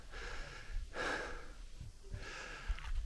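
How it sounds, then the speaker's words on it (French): A person breathes heavily, out of breath after exertion on a mountain stretch of Argentina's Route 40. Several deep, close breaths and a couple of strong exhales come quietly, without speech. "Un peu essoufflé."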